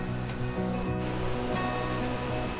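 Bogatha Waterfalls in Telangana gives off a steady, continuous rush of falling water, a dense unbroken roar heard with no talking.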